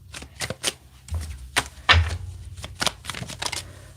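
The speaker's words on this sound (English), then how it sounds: "We get 3 more good shuffles here." Tarot cards riffle and slap together in quick bursts, several shuffles in a row with short pauses between, close and crisp.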